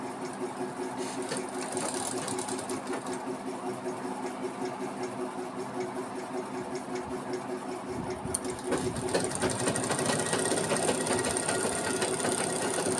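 A sewing machine stitches along a rolled, twisted fabric edge to finish a cord, running as a steady close mechanical whir with a rapid needle rhythm that grows slightly louder and busier toward the end.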